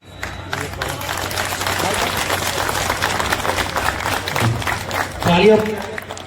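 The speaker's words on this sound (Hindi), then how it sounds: "तालियों की गड़गड़ाहट जोर से होनी चाहिए" Crowd applause at a Holi Milan gathering in Dhaulana, dense steady clapping from a large outdoor audience, with voices and shouting mixed in and a louder burst near the end.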